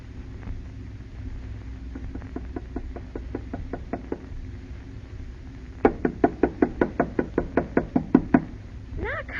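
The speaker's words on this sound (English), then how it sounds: "Knock harder, Alice." Knocks on a house door in an old radio drama: a soft run of about ten raps, a pause, then a louder, faster burst of a dozen or so sharp knocks, all over a low background hum.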